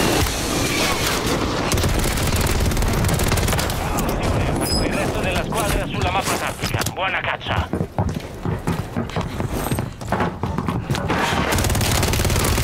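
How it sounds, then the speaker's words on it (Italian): Heavy gunfire aimed at the player in Warzone 3, rapid volleys and loud bangs crowding together over constant movement and footsteps, with someone talking through parts of it. "Ok, mi stanno sparando."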